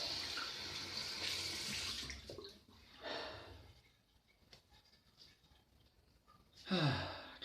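Water runs from a tap into a bathroom sink during a wet shave, a steady broadband rush for about two seconds, then short intermittent splashes and a final brief burst of flow near the end.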